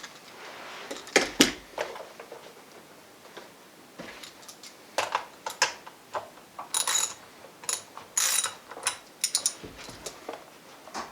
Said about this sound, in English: Loosen up the chain.